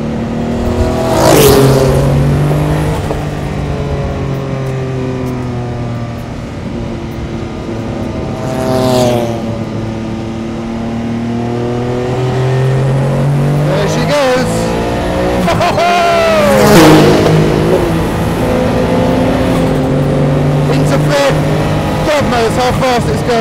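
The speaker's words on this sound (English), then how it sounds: "All sort of happens above about 5 when that turbo motor comes good." A Porsche 962 Le Mans race car's turbocharged engine revs hard and close, its pitch sweeping up and dropping through gear changes over roughly twenty seconds of continuous, loud running.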